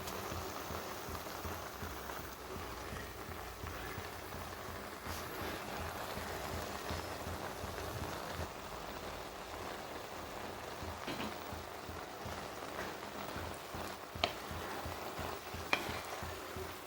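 Green spinach fries in a pan with a continuous soft sizzle and occasional scraping stirs, a steady crackling wash throughout with a couple of brief taps near the end.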